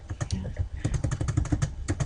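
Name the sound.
typing on computer keyboard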